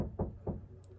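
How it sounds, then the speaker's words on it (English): Two distinct knocks on a door, evenly spaced and fairly muffled, heard indoors with no speech and a quiet background. "So you might hear people knocking on the door."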